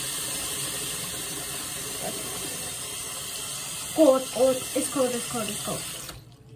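Tap water runs steadily into a sink with a constant hissing splash. Someone talks briefly over it partway through, and the flow cuts off at the end.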